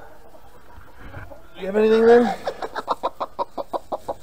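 Hens on a small family farm cluck in a quick, regular run of short calls close to the microphone, following a brief louder squawk, while a person talks nearby.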